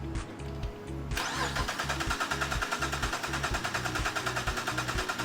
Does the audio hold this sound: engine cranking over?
yes